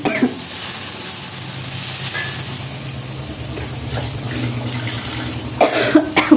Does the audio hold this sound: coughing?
yes